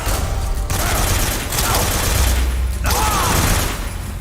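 Rocket ignition and launch in Metal Gear Solid 3, a loud continuous roaring blast with broadband rumble that surges in bursts and holds steady throughout, with faint voice-like tones over it.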